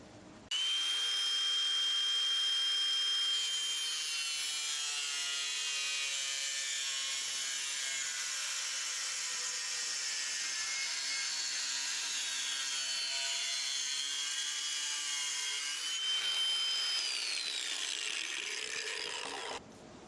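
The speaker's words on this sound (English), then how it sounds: "more grinder time." Angle grinder with a cutting disc slicing through metal on a Rover P6 3500, a loud continuous high-pitched whine and screech held for about fifteen seconds before spinning down.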